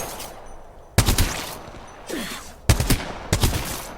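Two sharp volleys of gunfire from Apex Legends, each a loud cracking burst of quick double-tap shots followed by trailing echoes, separated by quieter ambient game sound, with no speech.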